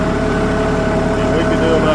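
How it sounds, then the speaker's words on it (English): A medium-sized tractor of about 30 to 35 horsepower idles nearby with a steady rumbling drone, while a person talks over it throughout. "It's a medium-sized tractor, 30 horsepower, 35 horsepower, something like that."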